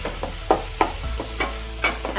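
Onions fry in a pan for spicy mutton rassa, with a spoon scraping and stirring them in a few distinct, evenly spaced strokes over a steady low sizzle, close and fairly loud.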